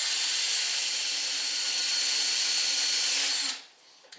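A power tool whines steadily and loudly for about three and a half seconds as it scours rust scale off a 2006 Buick Lucerne brake caliper bracket, then cuts off abruptly into near silence.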